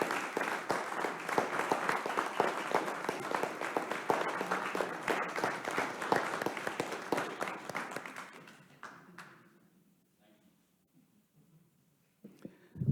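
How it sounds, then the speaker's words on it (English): Village council meeting audience giving a round of applause, a dense steady clapping that holds for about eight seconds before thinning out and fading to near silence. "maybe we can get a good round of applause for you."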